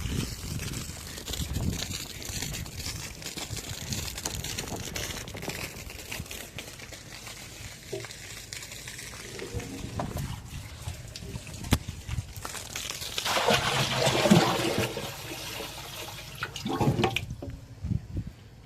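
Water pours from a hose into farm tanks in a steady rushing stream, moderately near, rising into a louder splashing surge late before cutting off.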